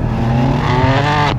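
BMW F80 M3 with S55 engine and exhaust valves open, revving hard in a rising, loud, rasping exhaust note that climbs steadily before cutting off abruptly near the end.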